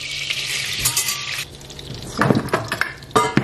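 Plates set down in a kitchen give a few sharp ceramic clinks and clatters, in two short bursts over a soft frying sizzle in the background.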